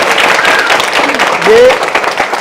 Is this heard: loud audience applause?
yes